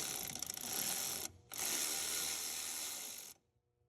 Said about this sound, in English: grab my trusty electric ratchet and let's try to take this clamp out now